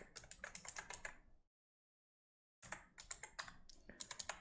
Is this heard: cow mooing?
no